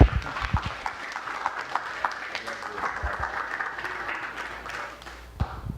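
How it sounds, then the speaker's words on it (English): Audience applause for a panel at a cannabis-industry tech conference, steady dense clapping across the whole stretch with a few sharper claps standing out, moderately near. "a quick round of applause for our panel"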